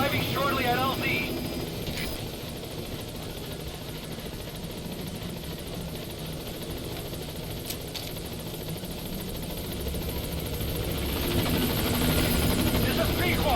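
In the Metal Gear Solid V video game, a helicopter approaches the landing zone with a steady, loud rotor roar that holds throughout and swells slightly toward the end, with radio chatter over it.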